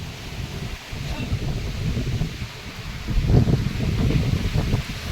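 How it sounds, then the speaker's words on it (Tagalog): Strong typhoon wind (Typhoon Nica, signal #4) roars and rumbles against the microphone in a rural province, gusting louder partway through, with a rushing, rustling texture throughout. "Malakas pa ang hangin, mga kadugo, oh. May hangin pa."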